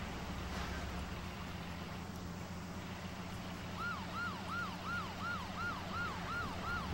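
A wailing siren in the video game Just Cause rises and falls rhythmically over a constant engine rumble, starting midway and repeating several cycles at moderate volume.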